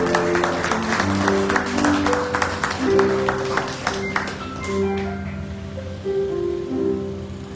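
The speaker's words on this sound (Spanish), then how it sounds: "le pueden dar un aplauso al Rey de Reyes y Señor de Señores" A church congregation claps in applause, sharp hand claps rising loud over sustained music, then thinning out as the music carries on alone.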